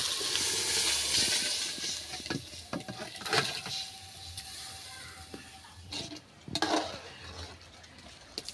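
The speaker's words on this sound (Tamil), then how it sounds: "இப்போ வேக வச்ச மட்டன் வந்து ஊற்றிக்கிறாங்க" Boiled mutton is poured into a sizzling onion-tomato masala in a home kitchen, giving a soft steamy hiss and frying sputter with scattered clanks and stirring knocks, fairly faint.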